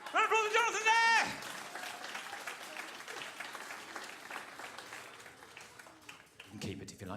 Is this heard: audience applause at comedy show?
yes